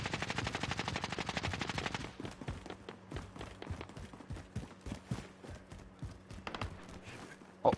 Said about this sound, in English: I'm gonna shoot at it with a pistol.